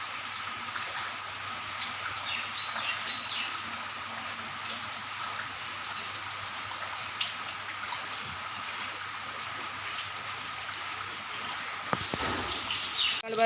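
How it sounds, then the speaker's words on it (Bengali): Steady morning rain falls outdoors, a continuous, even hiss of drops pattering on surfaces with a soft watery rush, fairly close and unbroken, with no one talking. "ঘুম থেকে উঠে দেখছি বৃষ্টি হচ্ছে।"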